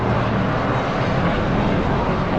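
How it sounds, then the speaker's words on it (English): Steady broadband roar of an aircraft passing overhead in a city neighborhood, loud and continuous with no clear rise or fall across the span. "There's a helicopter coming."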